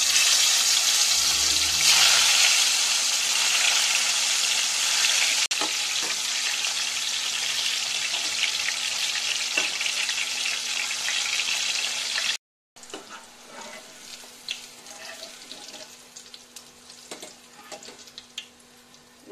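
Sliced bitter gourd frying in hot oil for a Telugu kakarakaya kaaram, giving a steady, close broadband sizzle with occasional crackles throughout, broken by a brief silent gap.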